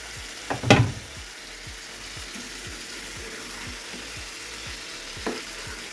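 Fish roe sautéing in a pan with fish, a quiet steady sizzle and hiss with a couple of brief louder splashes of sputtering, no voices.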